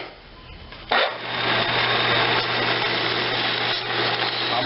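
A wood lathe spins steadily as a long-handled spoon's sphere end is turned, a constant whirring hum with scraping texture that starts after a brief quieter moment and continues loud and alone.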